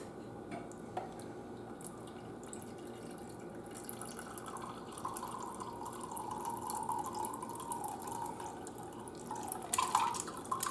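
A lemon drink pours into a glass with a lemon-rimmed edge over ice, making a steady, faint trickle with light splashing and a few drip-like clinks.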